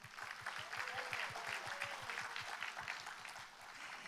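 A crowd at a Gyeongbuk bio industry expo applauds students, a steady wash of clapping with a low rhythmic beat pulsing underneath throughout.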